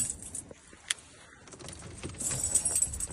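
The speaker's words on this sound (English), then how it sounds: "Put the key in." Keys jangle with light metallic clinks while a key goes into a car's ignition, a sharp clink near the start and a busier rattle toward the end over faint low rumble.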